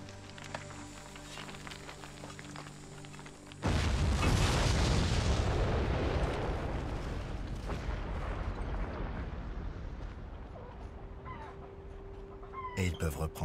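Old artillery shells dug up from farm fields detonate: after a quieter stretch, one heavy blast breaks out suddenly and rolls into a long, rumbling decay that fades slowly over several seconds.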